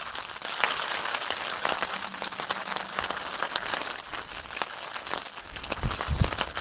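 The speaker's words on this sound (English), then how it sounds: "Well, that's some steady rain coming there." Steady rain pours near a dam on a fishing outing, a dense, continuous hiss of drops pattering on surfaces close by, with occasional louder splats throughout.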